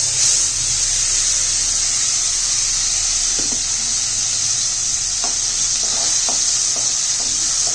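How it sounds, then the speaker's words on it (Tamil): Ground tiruvathi leaf paste hits hot oil already popping with mustard seeds in a kadai, a steady bright sizzle with scattered small pops and crackles, no talking. "அரைச்ச திருவாத்தி இலையை போட்டு தாளிச்சு"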